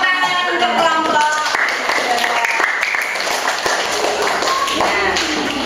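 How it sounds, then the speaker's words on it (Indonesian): Classroom of primary school pupils applauding a student group after a peer teaching presentation, a dense patter of clapping that fills the whole stretch at steady loudness, with scattered children's voices mixed in. "Tepuk tangan untuk kelompok."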